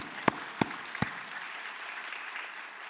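Three sharp claps ring out one by one, then a broad, steady wash of congregation applause at a Sunday church service fills the room and carries on to the end.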